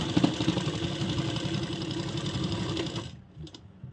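A sewing machine runs steadily, stitching a Banarasi straight kurti for a party-wear suit, with a close, even mechanical whir for about three seconds before it stops and falls quiet.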